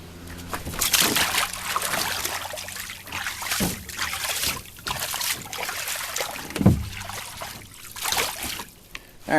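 Water in a backyard pool pond churned and stirred by hand, giving irregular close sloshing, dribbling and splashing bursts throughout with no talk over it.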